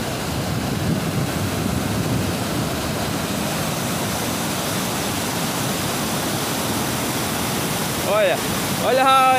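A strong, rushing waterfall roars loud and close in an unbroken wash of water noise, with a faint voice briefly audible near the end.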